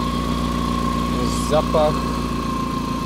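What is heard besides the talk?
engine of homemade generator cogenerator running, slightly bogging down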